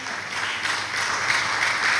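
A crowd at a political mass rally applauds steadily, a dense patter of many hands clapping at moderate volume, continuous without voices.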